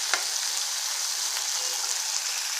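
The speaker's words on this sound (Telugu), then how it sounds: "క్యాప్సికమ్ ముక్కల్ని బాగా కలుపుకొని" Capsicum pieces sizzle steadily in hot oil tempering while being stirred, a constant bright hiss of frying with no voices.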